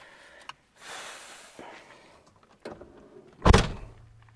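A 1989 Honda Prelude door is handled: a whirring slide and some mechanical rattling, then a loud solid thunk as the door shuts, close by, with no speech.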